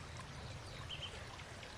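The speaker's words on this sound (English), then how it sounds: "Hear the sound of the babbling water, the wind blowing through the trees." Babbling stream water trickling and gurgling softly, faint and steady over a short stretch, with a light rushing wash.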